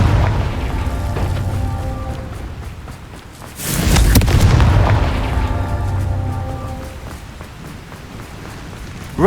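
Confringo spell explosion in the video game Hogwarts Legacy: a loud, close burst near the middle of the clip that swells and slowly decays over steady game ambience, with no talk.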